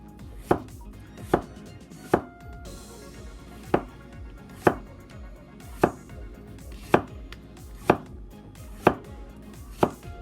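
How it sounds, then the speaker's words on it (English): A knife cuts thin slices from a peeled cucumber on a board, making about ten sharp, evenly spaced chops close by with no talking. "Okay, we cut the peeled cucumber. The cucumber we cut it like this. Cut it thin."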